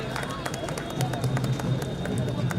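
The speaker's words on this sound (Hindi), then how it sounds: "जोरदार तालियां" Enthusiastic applause fills a stadium during a Republic Day ceremony, with steady dense clapping from a large crowd and sharp individual claps popping out through the two-and-a-half seconds.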